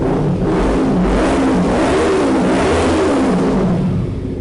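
A Kawasaki Z300 motorcycle runs loud and close through a two-inch exhaust tip fitted with a removable silencer insert, holding a steady, raspy engine drone with slight swells in revs.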